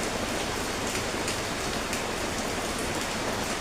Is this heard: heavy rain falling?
yes